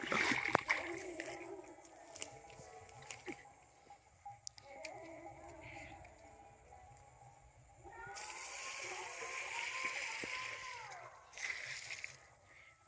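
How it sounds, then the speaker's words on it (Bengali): Water splashes and sloshes steadily onto kohlrabi plants in a home garden bed, with a voice talking over much of it and a louder, fuller pour in the second half. "এগুলো দিচ্ছি ওলকপি গাছে জল"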